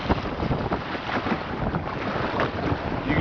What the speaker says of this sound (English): You can tell it's windy.